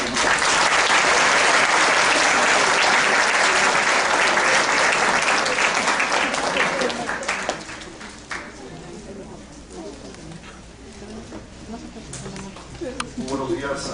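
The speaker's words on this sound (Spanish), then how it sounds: "Un aplauso." Audience applause at a conference on a unified penal code in Mexico: loud, dense clapping from a sizeable crowd that holds steady for about seven seconds, then thins and trails off into scattered claps and room noise.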